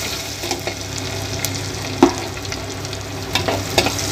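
Garlic frying in a pan for a traditional tamarind brinjal curry sizzles steadily up close, with occasional sharp clinks and scrapes of a stirring spoon, no talking.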